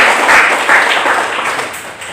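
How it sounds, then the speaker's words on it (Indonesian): Students in a junior high school class clap for a presenting group: a loud, close burst of mixed hand claps that swells early, then thins and fades slightly over two seconds. "Kita tepuk tangan untuk kelompok 1."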